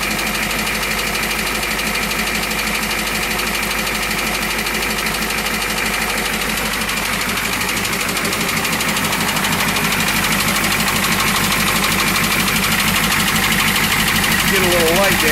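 A 1969 Ford F-250 truck engine idles with a steady knock in a rapid even rhythm, loud and close. Someone talks over it throughout.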